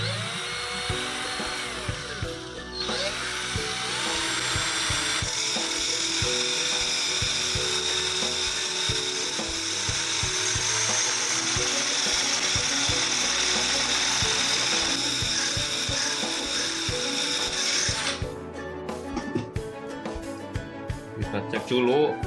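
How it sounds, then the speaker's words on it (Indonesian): A drill fitted with a grinding disc grinds steadily on metal for a long stretch with a harsh, whining rasp, then stops, followed by clattering handling noises. "ini mata gerinda saya pasang pada bor ya"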